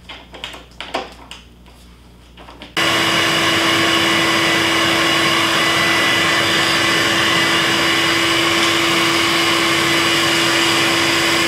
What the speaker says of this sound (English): I just want to go ahead and get it in there and make sure that we're getting a good vacuum.